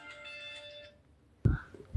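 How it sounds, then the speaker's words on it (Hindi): A phone rings in a home kitchen during cooking, a short electronic tonal ringtone for about a second, fairly faint, followed by a pause and then louder clattering handling noises. "काट दो फोन"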